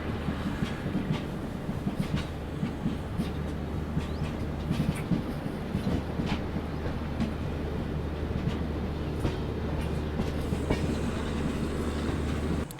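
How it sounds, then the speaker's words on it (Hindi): The Gyaneshwari Express pulls out of a station on an Indian rail line, a loud steady rumble of rolling wagons with rhythmic wheel clacks and occasional metallic knocks, continuing without voices. "ये ज्ञानेश्वरी एक्सप्रेस है जो कि अभी निकल रही है"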